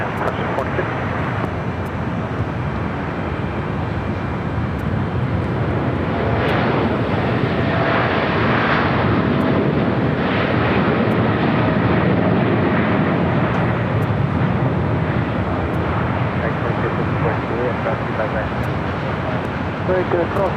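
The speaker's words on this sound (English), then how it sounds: "we do have that United Dreamliner heading to London Heathrow, now taking off on the south side" A United Boeing Dreamliner bound for London Heathrow takes off at LAX, a steady broad jet roar holding loud across the whole stretch, with faint radio chatter and talk mixed in.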